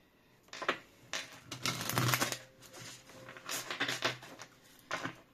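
Oracle cards being shuffled by hand, a series of soft riffling, papery bursts and taps in uneven rhythm, close and fairly quiet, with no voice.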